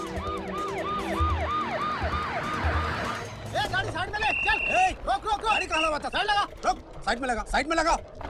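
A VIP vehicle convoy siren wails in repeated rising and falling sweeps, loud and near, then gives way to faster, choppier siren yelps mixed with traffic noise and voices.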